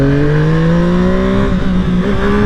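A Yamaha MT-09 motorcycle engine revs up loudly and close, its pitch climbing smoothly before dipping and rising again as the throttle is worked.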